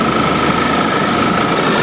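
A four-cylinder engine in an Audi A6 runs steadily up close, a dense, even mechanical drone with a rapid ticking texture and no pauses or voices.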